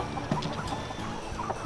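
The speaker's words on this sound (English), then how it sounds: "Oh, there's my chicken." A backyard chicken gives a few short, soft clucks close by against steady low ambient noise, with no one talking.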